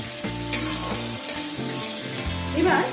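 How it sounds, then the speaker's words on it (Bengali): Chopped tomato with a pinch of salt and whole spices fries for a vegetarian chana dal, a continuous sizzle broken by a few sharp stirring scrapes and knocks, with low tonal hum underneath. "এবার টমেটোটাকে একটু চাপা দিয়ে এটাকে ভাজা করে নেব"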